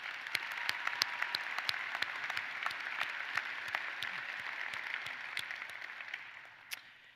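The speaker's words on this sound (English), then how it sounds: "let's applaud our honorary degree holder, Dr. George Denton." Applause at a University of Maine undergraduate commencement ceremony honoring an honorary degree holder, a large crowd clapping steadily and fairly distantly in a big space, with a few sharper individual claps standing out before it fades at the end.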